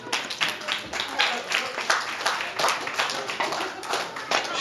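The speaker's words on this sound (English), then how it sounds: "I now give them a round of applause" A small reunion crowd claps in a round of applause, a dense, rapid patter of hands holding steady for several seconds at moderate loudness.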